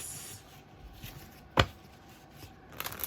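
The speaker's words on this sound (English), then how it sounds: "I have to shuffle." A tarot deck is shuffled by hand, with soft papery rustling, one sharp snap of cards in the middle and a quick burst of riffling at the end, close and fairly quiet.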